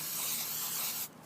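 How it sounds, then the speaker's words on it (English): A spray bottle mists a waterproofing coating onto hermit crab sand in one continuous close hissing burst that cuts off sharply after about a second. "spray it in coats and let it dry"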